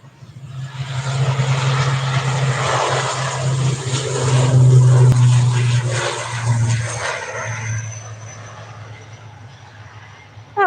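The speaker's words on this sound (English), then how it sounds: "A lovely little ATR 72. Oh, we love a prop, don't we?" An ATR 72 turboprop airliner at Manchester Airport gives a steady, fairly loud propeller drone that swells toward the middle and then slowly fades as it passes.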